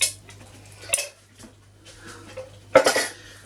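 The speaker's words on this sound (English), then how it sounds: "So I'm going to chuck in the tomatoes." Chopped tomatoes tipped from a tin into a slow cooker on low, with a few separate metallic clanks and scrapes of the can against the pot, the loudest burst near the end and quiet gaps between.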